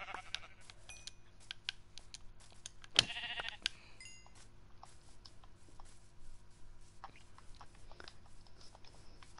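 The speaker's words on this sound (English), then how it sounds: "More sheep, more mutton." Sheep bleat in the video game Minecraft, one short bleat standing out around the middle amid quiet game ambience and scattered clicks.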